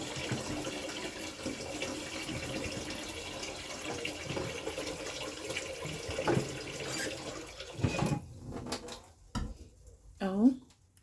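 Water runs steadily from a tap into a cooking pot for lentils and carrots, then the flow breaks into splashes and sloshing as it stops, with a voice talking alongside.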